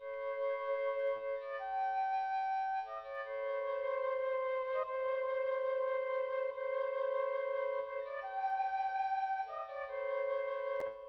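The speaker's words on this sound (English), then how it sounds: "The other plugin that they've introduced is the Spectral Resonator" Ableton Live 11 Spectral Resonator turning a held synth chord into a shimmering, slightly detuned harmonic texture that sustains continuously with small pitch shifts and faint clicks, no talking.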